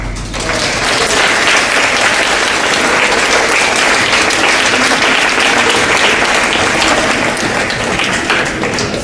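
Loud, steady applause from an audience at a 4th/5th grade parent performance, dense clapping filling the room without a break.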